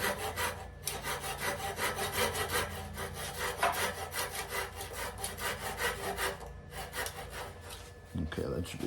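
Rhythmic back-and-forth hand sawing through walnut to cut a piece off on a lathe, fast regular strokes with a rasping edge, close and steady before stopping near the end.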